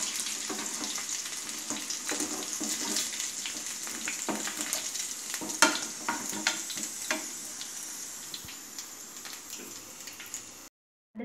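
Chicken pieces fry in hot oil in a pan, a soft steady sizzle with scattered crackles and stirring clinks, fairly faint and cutting off abruptly near the end.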